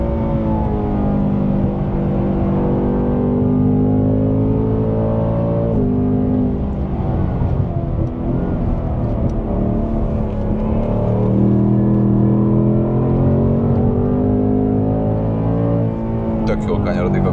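A new Ford Mustang GT engine hums steadily while driving, its low tone rising and falling through the revs, loud and close from inside the car with people talking over it.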